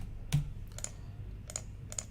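Scattered keystrokes on a computer keyboard during timetable data entry in training software, a few quiet isolated clicks in a near-silent room.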